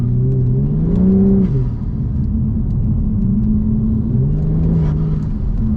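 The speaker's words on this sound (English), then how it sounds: "if you guys probably heard the intake sound that it makes" Volvo T6 engine fitted with an Elevate intake manifold, revving in a series of loud, close rising and falling pulls, with intake roar swelling over a steady engine hum.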